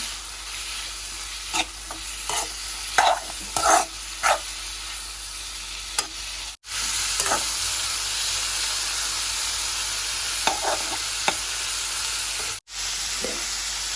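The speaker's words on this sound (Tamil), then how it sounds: "இது வந்து எண்ணெயில் பீன்ஸும் நல்லா வதங்கி வரட்டும்" Prawns and green beans sauté in hot oil with a steady, close sizzle, broken by intermittent stirring scrapes and two brief dropouts.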